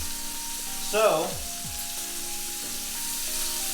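A beef tenderloin steak sears in a hot pan while it is basted with rosemary garlic butter, giving a steady moderate sizzle with a brief louder spatter. Someone speaks briefly over it.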